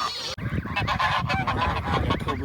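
Two domestic ganders squabble in close range, loud harsh honks and hissing calls overlapping in rapid bursts after a brief sharp onset.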